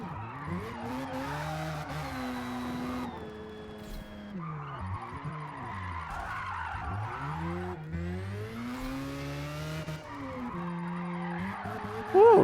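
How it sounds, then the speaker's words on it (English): Formula Drift car sliding sideways in a racing video game, with a steady roaring engine and long screeching tire squeal that rises and falls throughout, loud and close with no talk. "Maybe I'll take a Formula drift car later on. And that's in the game"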